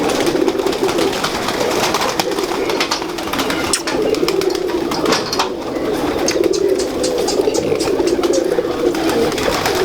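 Laal Pari pigeons coo in a steady, continuous low murmur, with bird calls throughout and faint rustling in the background.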